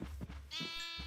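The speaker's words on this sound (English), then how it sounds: "we got plenty of sheep in here now" Sheep in a farming video game pen bleat twice, close and fairly quiet, each call wavering and drawn out, with a soft thud before them and no talking.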